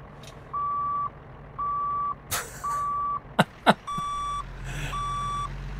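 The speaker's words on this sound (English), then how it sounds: "when you stick it into reverse, you get this... ridiculous reversing horn, which honestly sounds like an alarm clock." A Scot A2HD vintage truck in American Truck Simulator sounds its reversing horn, a steady alarm-clock-like tone repeating in even bursts over engine rumble, with a couple of sharp air hisses partway through.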